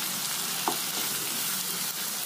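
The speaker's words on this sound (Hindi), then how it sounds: "फटाफट से इसको मैं चला देती हूँ।" Ginger garlic paste fries in a pan with mushrooms and peas, a dense continuous sizzle with a quick stir or clink partway through, close and steady, with no talking.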